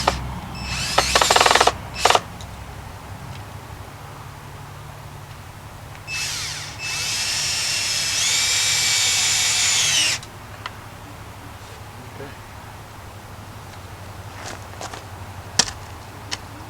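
A power drill drives screws into the wooden frame of a portable shooting target, with a short whirring burst, a pause, then a longer steady run that bogs slightly as the screw seats, and quiet clicks between.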